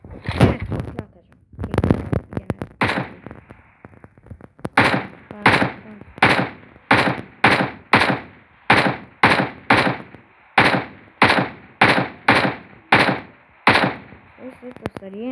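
Rapid single shots from an AKM rifle in a video game, about a dozen sharp evenly spaced cracks in a steady rhythm, loud and close, with a few bursts of fire near the start.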